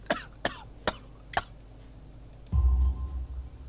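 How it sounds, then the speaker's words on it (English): Four sharp, evenly spaced coughs from a game character with coal dust in the lungs in Sherlock Holmes: The Devil's Daughter, close and clear, followed by a low thump and rumble. "You have a severe cough."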